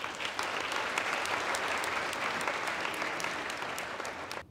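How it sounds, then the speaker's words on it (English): Sustained applause from a large audience at a charity fundraising dinner in New Jersey, steady dense clapping that fills the room for several seconds before beginning to thin at the end. "I would like to have a big round of applause from all of you"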